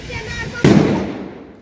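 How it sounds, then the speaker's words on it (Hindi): A firecracker goes off in a village, a single loud blast with a long fading rumble that follows voices in the background. "बम बजाया बहुत तेज"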